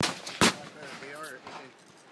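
A single sharp, loud shot from an AK rifle in a video game cracks out near the start, followed by quieter game sounds and a person talking.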